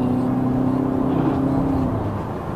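A VW Golf 8 GTI pulls hard in second gear in manual mode, its engine note rising steadily as a smooth droning whir from inside the car, with no talk.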